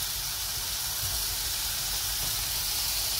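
Dough for lamb doner cooking on a hot pan, a steady broad hiss and sizzle held evenly for a few seconds, close and without talk.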